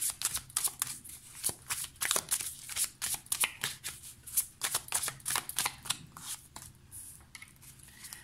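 Mucha Tarot cards being shuffled by hand up close, a rapid run of crisp riffling flutters and soft slaps in irregular bursts, alone and moderately quiet.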